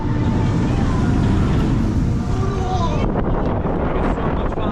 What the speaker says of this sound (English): So windy here today